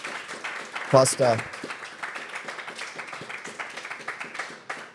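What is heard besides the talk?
audience applauding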